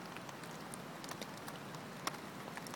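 Torrential rain pattering on a hammock fly at a camp, soft steady drumming with scattered sharper drops striking close by, faint overall.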